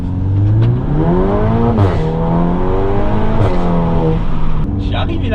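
A four-wheel-drive car drifting, its engine revving hard in repeated rising and falling surges, loud and close, with people talking over it.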